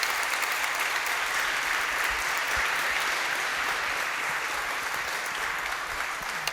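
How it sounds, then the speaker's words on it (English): Audience applause after a talk on testing and quality engineering, a sustained wash of many people clapping evenly throughout, heard from a little distance at moderate volume with no voices over it. "This was definitely the biggest applause so far."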